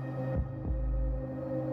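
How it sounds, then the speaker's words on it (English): A heartbeat effect in a Warframe video game trailer gives two soft, deep low thumps over a steady droning hum, with no talk. "I'm loving the heartbeat."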